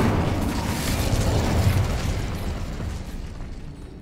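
A fire spell burst in Hogwarts Legacy: a loud, sustained whooshing blast of flame and crackle that swells and slowly fades over several seconds, with no talk over it.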